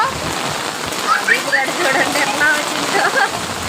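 Rain pours steadily onto a surface, a constant hiss with patters of drops, and people's voices faintly audible underneath.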